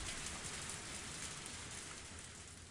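Heavy rain pours steadily in the Higurashi visual novel game, a dense, continuous hiss across the whole moment with no voices and no break in the downpour.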